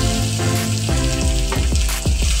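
Crushed green chillies and garlic drop into hot oil in a pan and sizzle steadily, with a few brief stirring scrapes over the close, continuous frying hiss.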